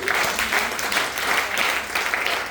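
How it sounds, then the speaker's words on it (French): An audience at a church meeting claps and cheers in praise, a dense, continuous wave of applause with no clear pauses. "Acclamons Jésus."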